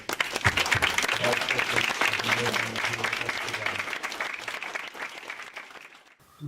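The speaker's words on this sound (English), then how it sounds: "let's give a round of applause" A full round of applause from an audience at a church talk, dense continuous clapping with a few voices in the crowd, fading toward the end.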